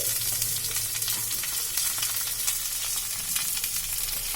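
Onion frying in a kadai with a small chopped tomato and green peas just added, the base for a spicy kachki fish dish; a loud, steady, dense sizzle fills the whole stretch with no talking.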